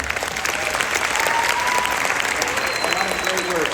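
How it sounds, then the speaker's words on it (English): Audience at a high school orchestra fall concert applauds warmly, a steady wash of clapping held at even loudness throughout, with a voice briefly audible in the mix toward the end. "Can we have a round of applause for her?"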